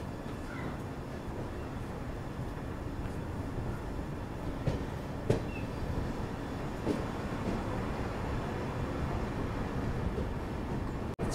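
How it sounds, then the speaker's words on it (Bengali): The Jammu Tawi Express pulls out of Raniganj station with a steady, continuous rumble of wheels and carriages, joined by a few sharp metallic clanks midway, and no voices. "ছেড়ে দিল আমাদের ট্রেনটি রানীগঞ্জ স্টেশন থেকে"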